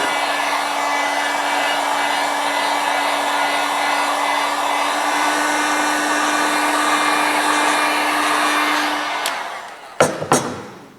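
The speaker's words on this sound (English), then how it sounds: "I'm just going to wave a hot air gun over it" A hot air gun blows steadily to dry fresh paint on a car's front apron, a loud continuous whirring roar with a steady hum that cuts off near the end, followed by a couple of sharp clunks.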